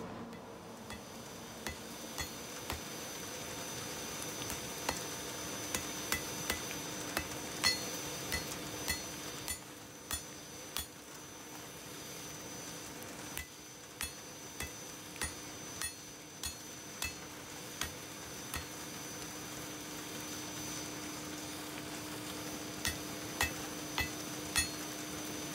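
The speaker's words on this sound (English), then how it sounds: "I'm going to keep hammering this until it is no longer hot enough for the metal to weld together." A hammer repeatedly strikes hot bloomery iron on an anvil as it is forge-welded into hearth steel, giving steady, fairly faint metallic blows in a regular rhythm against a low background hum.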